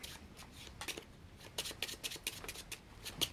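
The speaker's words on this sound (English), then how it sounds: "Give it a nice shuffle." A deck of playing cards being shuffled during a card magic trick, in quick irregular riffles and snaps that come close and fairly quiet, with no talking.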